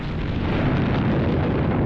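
An explosion in a bad ending of the Fate/Stay Night visual novel game: a dense, loud, continuous roar of broadband rumble sustained throughout, without a distinct onset, heard alone.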